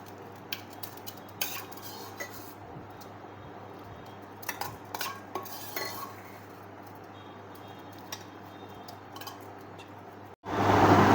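Crisp fried green chilies being scooped from a pan into a mixer jar, with scattered metallic clinks and scrapes of a spoon against the pan and jar over a low steady hum, ending in a sudden loud burst.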